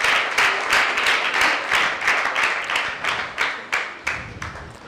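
Audience clapping steadily through a school debate hall, a dense wash of hand claps that thins into a few separate, louder claps near the end, with no talk over it.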